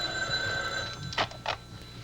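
A telephone rings indoors on a soap opera set, giving a couple of bright, clear ring bursts close by over a faint room hum, with no talk during the rings.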